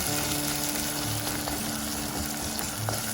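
Tomatoes sautéing in a pan for a Tamil-style omelette curry give off a steady, close, even sizzle that holds without pause, with no voices.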